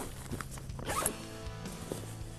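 A zipper on a mesh-lined pouch of a 5.11 Tactical Rush 72 backpack is pulled, giving a close, quiet rasp lasting a couple of seconds with no talking.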